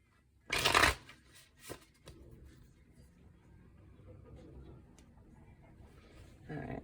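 Cards are shuffled in a quick riffle burst near the start, then a few softer riffles and handling rustles, close up and without talk.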